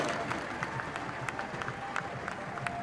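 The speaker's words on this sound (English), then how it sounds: "A massive cheer from the crowd there for René." Spectators at a DTM touring car race at Hockenheim cheer and applaud, a dense distant crowd roar with scattered claps throughout the short stretch.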